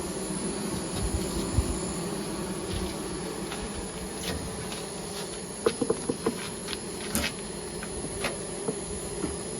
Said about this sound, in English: y'all are good tempered bees, I'll give you that